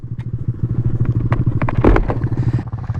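A 2020 Honda Grom motorcycle engine revving steadily while riding a wheelie, a close, continuous buzzing drone with fluttering pulses and a brief louder surge near the middle.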